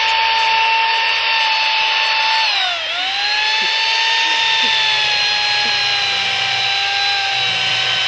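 A chainsaw cuts through a freshly caught fish during an outdoor filleting, its loud steady whine dipping briefly as the blade bites in, then running on with a strong high harmonic drone throughout.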